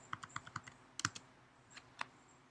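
Quick keystrokes clatter on a computer keyboard, a rapid run of crisp clicks followed by a few spaced single taps, close and fairly quiet with no talking.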